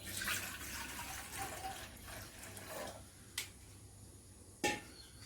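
Water splashes and pours into a pot for boiling eggs in a home kitchen, a faint running trickle followed by a couple of brief sharp clinks.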